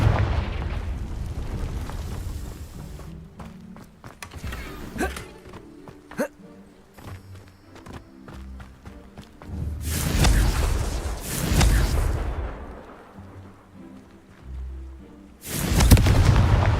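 Confringo spell explosions in the game Hogwarts Legacy: several booming blasts with rumbling tails, interspersed with sharp pops and clicks of gameplay, loud and close.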